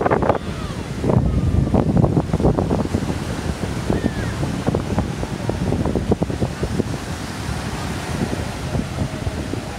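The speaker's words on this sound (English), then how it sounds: "the beach isn't very long" Waves rolling onto a narrow beach in Cartagena, a continuous rushing wash of surf blended with gusty wind buffeting the microphone, steady and fairly loud for the whole stretch with no voices.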